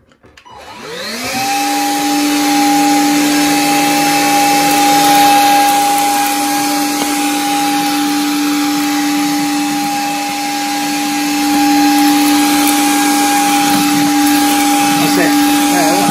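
A Gtech Air Ram K9 cordless vacuum cleaner running on suction only spins up and holds a loud, steady motor whine close by for about fifteen seconds.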